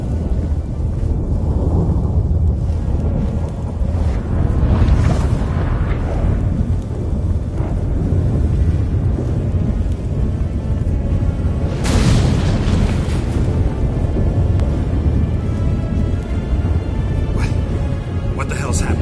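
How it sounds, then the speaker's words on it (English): Thunderstorm in the video game The Witcher 3, heard as continuous deep rumbling and booming thunder that swells into a louder crack partway through, with characters talking over it. "That a storm?"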